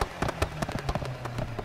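Exhaust crackle from a starter car in the racing game Need for Speed Heat: rapid loud pops and bangs over a low engine drone, closely spaced and irregular throughout.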